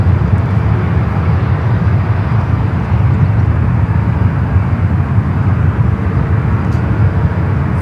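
A jet airliner takes off at San Francisco airport, a loud, steady broadband engine roar heard from a distance, sustained without pause and with no talk over it.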